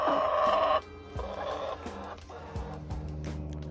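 Chickens cluck inside a farm coop, with one drawn-out call at the start followed by scattered short clucks and low murmurs nearby, fairly quiet.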